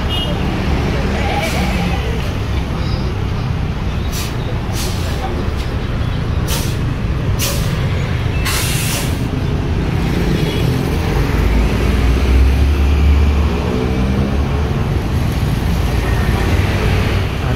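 A Harapan Jaya bus with an Adi Putro Hino Jetbus 2 body idles and rumbles loudly nearby at a Jatiasih agent, traffic noise steady throughout and a few sharp air-brake hisses, while someone talks over it.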